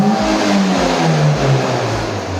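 A car engine hooked to a knock sensor analyzer revs loudly and close as the accelerator is pressed, its pitch rising and falling over a steady rumble.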